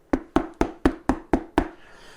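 Seven evenly spaced, sharp knocks on a hard book ring out close and clear, each with a short hollow decay, mimicking someone rapping at an office door.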